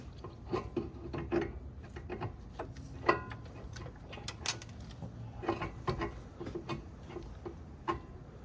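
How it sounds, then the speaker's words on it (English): Castle nut being tightened on a ball joint of a 1992–2000 Honda Civic suspension, a rapid series of close ratchet clicks and metallic ticks in irregular bursts, without speech. "So we'll secure the nut, castle nut, on this ball joint here"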